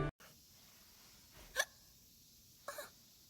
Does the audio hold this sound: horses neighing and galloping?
no